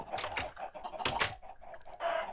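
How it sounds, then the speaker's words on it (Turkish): Minecraft chickens clucking as they are killed in a survival game, a rapid run of loud, close squawks and clucks repeating over a couple of seconds with no talk. "Gördüğünüz gibi 20 tavuk kestim."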